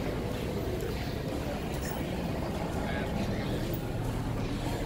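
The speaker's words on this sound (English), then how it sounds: "I hear that helicopter hovering again." A helicopter hovers near Mactan-Cebu International Airport in the Philippines, giving a steady, fairly distant broadband rumble with wind noise and someone speaking over it.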